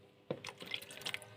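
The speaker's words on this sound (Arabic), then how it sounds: "نص كوبايه ميه." Half a cup of water poured into cake batter gives a brief, quiet splash and dripping gurgle lasting about a second, close by with no talk.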